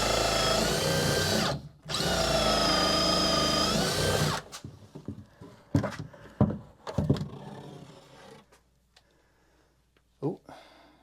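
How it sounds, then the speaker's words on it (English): A power drill bores beside an opening to enlarge an oblong hole, running in two long loud bursts separated by a brief pause, followed by scattered knocks and handling noises. "I drilled right beside it, and I basically just made my whole oblong bigger."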